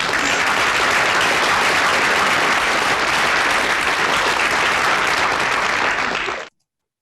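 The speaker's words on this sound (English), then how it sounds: "Let's have a big round of applause for Ed Carlisle, please." An audience gives a big round of applause for a presenter at a live talk event, loud and sustained dense clapping that runs without a break before cutting off abruptly.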